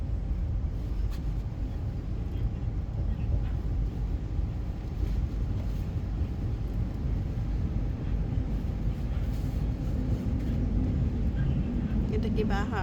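A train runs on its rails, heard from inside the carriage as a constant loud low rumble and roar that lasts throughout, with a child and an adult talking quietly over it.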